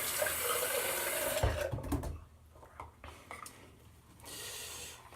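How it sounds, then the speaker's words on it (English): Running water rinses shaving lather off a face at a sink, a steady close hiss and splash for the first second and a half, then broken trickles and splashes before the flow swells again near the end. "I'll rinse off"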